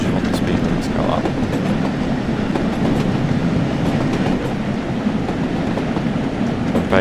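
A simulated heritage Jubilee locomotive train runs steadily on the Peak Forest line between Buxton and Manchester, giving a continuous rail rumble with faint clickety-clack throughout, unbroken for the whole stretch.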